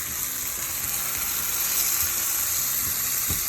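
Venison steaks frying in a pan give a continuous close, bright sizzle with a faint low clatter near the end, no one talking.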